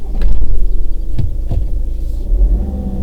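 A car engine idles steadily in a low, continuous hum, up close and loud, with a few brief clunks and a short rise in revs partway through; no one speaks.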